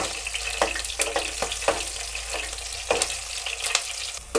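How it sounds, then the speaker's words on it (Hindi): Garlic and whole red chilies fry in hot oil in a pan, a steady close sizzle broken by irregular crackles and pops. "इसे अच्छे से हम फ्राई कर लेते हैं सुनहरा होने तक"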